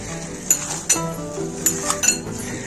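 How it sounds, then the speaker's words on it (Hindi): Chicken and potatoes are mixed together in a bowl for chicken ghosla kebab, with a spoon clinking against the bowl in a few sharp, close taps and scrapes. "चिकन को और पोटैटोस को आपस में मिक्स कर लेना है ऐसे"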